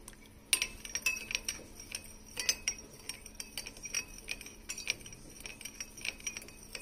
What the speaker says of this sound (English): So we'll have to mix this till the time the sugar is completely dissolved.